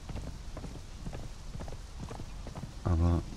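Hooves clip-clop in a steady trotting rhythm as a horse is ridden in the video game Conan Exiles, moderately close, with a brief louder burst near the end.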